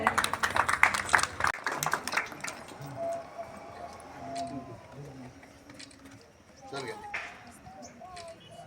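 An audience at a school ceremony claps in a brief, dense burst of applause, which fades into quieter room sound with a voice talking.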